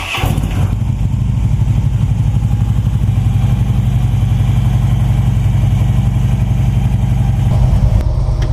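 A motorcycle engine runs steadily at close range on a cold, cloudy day, with a loud, even idle rumble that holds throughout and no talking.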